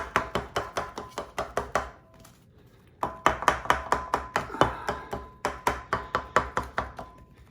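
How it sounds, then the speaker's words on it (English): A metal pizza pan spun and tapped on a kitchen countertop, giving a fast run of sharp, ringing clacks in quick bursts with a short pause between groups, close and clear with no talking. "I have found with this kind of pan, on this kind of countertop, I can spin and tap"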